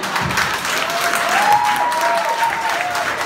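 Audience applause at a stand-up comedy show in a bar: dense, steady clapping from a crowd that fills the whole stretch at a lively level, with a faint sustained tone running underneath.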